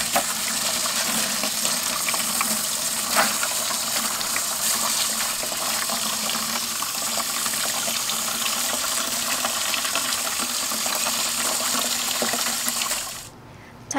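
Running water rinses compacted peat moss off the roots of a newly bought cactus, a steady broadband splashing and gushing like a tap or hose that continues without pause and cuts off abruptly near the end.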